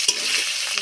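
Hot oil sizzles in a pan during simple home-style fish cooking: a steady, close broadband hiss lasting under a second, with a couple of soft stirring scrapes and no voices.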